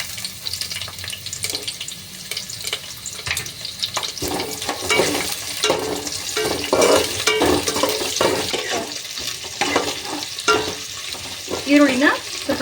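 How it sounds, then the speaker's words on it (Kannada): Onions with crushed garlic sauté in a pan, a continuous sizzle under repeated scraping strokes of a spatula, growing busier and louder toward the end. "ಈರುಳ್ಳಿನ ಸ್ವಲ್ಪ ಬಾಡಿಸ್ಕೊಳ್ಳೋಣ."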